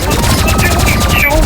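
Energy pistol fire in the game Rivals comes as a rapid, loud burst of repeated shots, a dense rattling volley lasting the whole moment.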